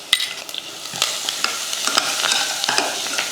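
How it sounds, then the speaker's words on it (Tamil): Spices and curry leaves with turmeric powder crackle and sizzle in hot oil while a utensil stirs them, with sharp pops and scraping clicks scattered throughout. "எண்ணெய் காஞ்சதுமே கொஞ்சம் கடுகுளுந்து சேர்த்துட்டு ரெண்டு வரமிளகாய் கொஞ்சம் கருவேப்பிலை"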